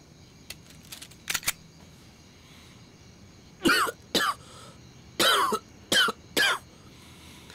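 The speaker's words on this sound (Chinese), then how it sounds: "就刚才你那两声咳嗽，很可能会要了你的命。" A man coughs in a string of sharp, close bursts, a few short ones first and then a louder cluster of five or six harsh coughs, set against a quiet room.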